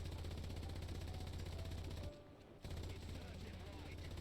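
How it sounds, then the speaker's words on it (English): An MG34 machine gun firing from a Porsche Tiger tank in War Thunder, a steady rapid rattle of low bursts that cuts out briefly midway and then resumes, loud and continuous. "So in terms of machine gun, it's a machine gun. It's the MG34."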